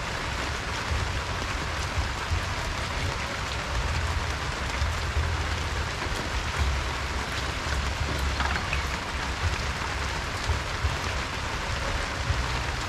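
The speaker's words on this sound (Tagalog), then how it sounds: "Maambon-ambon." Light drizzling rain in the countryside, a steady, even hiss of fine drops falling on surfaces, continuous and fairly close, with no talking.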